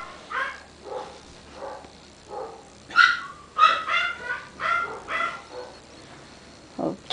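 Dogs bark in a string of short, moderately loud yaps and woofs from nearby, spaced irregularly across the scene with some higher yips, with no talking over them.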